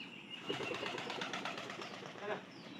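Soft, low cooing from pigeons kept in a village loft, quiet and fairly close, with a few faint chirps and wing flutters over a few seconds.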